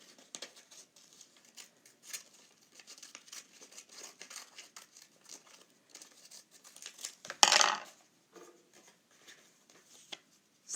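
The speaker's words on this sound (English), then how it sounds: "Cut out my robin." Scissors cut out a paper robin picture: a series of small snips and rustling paper handling, close and quiet, with one louder crinkling burst partway through.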